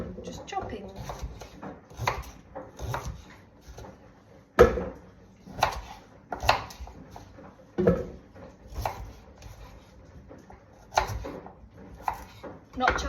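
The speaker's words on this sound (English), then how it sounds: "I'm gonna chop everything up" Sharp knife chops strike a board in irregular bursts as vegetables are cut, some loud and close, with softer clatter between, and no talking.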